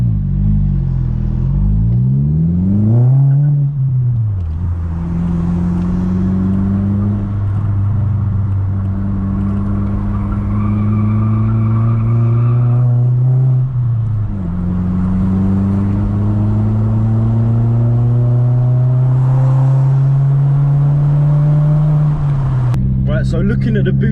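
An MK4 Golf GTI with a fixed boost problem at full throttle, engine note climbing in repeated rising sweeps as it pulls through the gears, loud and close with a voice over it.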